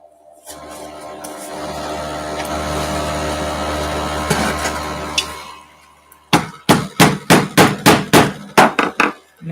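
Someone hammers a hole into a Jack Journal cover: a long low rumbling scrape is followed by a burst of about ten sharp, loud, evenly spaced hammer blows.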